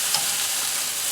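Spatchcocked chicken cooking skin-side on an Old Country Brazos smoker grill gives off a brief, steady sizzle at close range.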